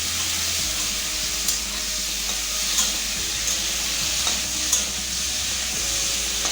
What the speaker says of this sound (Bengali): এর মধ্যে দিয়ে দেবো হলুদ লবণ মাখানো চিংড়ি মাছ।